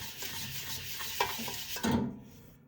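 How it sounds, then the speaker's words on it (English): A scrubber grinds against a burnt stainless steel pot in short, rough, close strokes, ending with a heavier scrape, with no voices. "I'm gonna go keep on scrubbing this right here"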